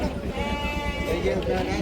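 A goat bleats with a wavering, drawn-out cry amid chatter at a sheep and goat market in Harihar, Karnataka, voices talking underneath throughout.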